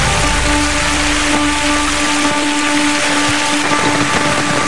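Steady, dense rain pours in the Rhodope Mountains during a thunderstorm, a constant wash of hiss with no pauses and no voices.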